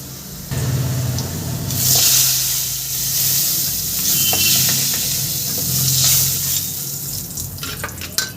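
Potatoes sizzle and hiss steadily while they fry in hot oil in a pan for a Bengali fish curry. The frying crackle is close and continuous with gentle swells, and no one talks.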